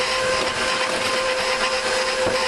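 A KitchenAid stand mixer runs on speed 2 kneading bread dough, giving a steady, loud motor whine with a constant tonal hum and a faint churning texture throughout.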